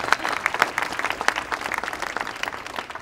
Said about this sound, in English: if we can give them a great round of applause